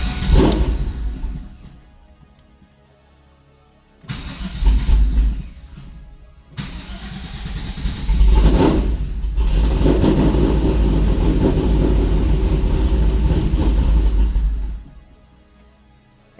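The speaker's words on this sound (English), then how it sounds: "the car is running" A Pontiac Trans Am WS6 with a big cam engine cranks and briefly catches several times, then starts and runs, holding a loud, rough, lumpy idle for several seconds before shutting off.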